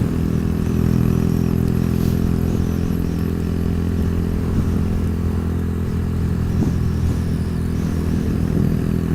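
A motorcycle on the road, its engine droning steadily and close with slight rises in revs, mixed with constant wind rush and no talking.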